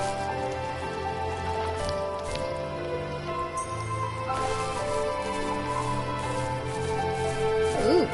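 Rain in The First Tree game falls as a steady, soft patter with a faint wash of ambient tones underneath, moderate in level and unbroken by talk.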